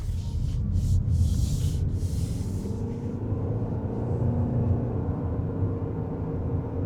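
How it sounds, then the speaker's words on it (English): Toyota RAV4 PHEV SE plug-in hybrid engine pulling steadily while merging into traffic, a continuous low rumble with road noise heard from inside the cabin, with a brief hissing burst early on. "We can hear the engine working"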